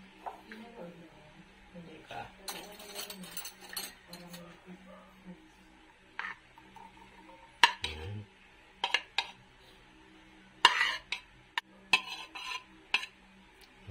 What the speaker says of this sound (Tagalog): pagsasama-samahin ko na itong mga ingredients na to, no? Dito sa bowl, sa mixing bowl